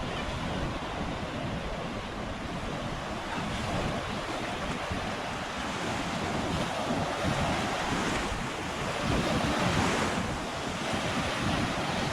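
Gentle ocean surf washes steadily onto a calm beach at Little Talbot Island, Florida, while wind rumbles across the microphone, with no one speaking.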